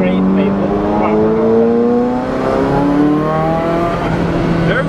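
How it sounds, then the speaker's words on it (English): Turbocharged Ferrari F40 engine revving steadily with layered harmonic tones and rising pitch sweeps, loud and close, continuing for several seconds with no pause. "There are the turbos."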